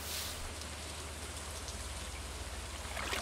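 Steady rain falls in the Stardew Valley video game, a constant dense hiss of drops on the ground that runs evenly throughout with no voices.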